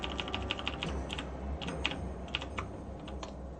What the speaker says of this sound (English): I hope you guys like all my keyboard music, and I'm just like typing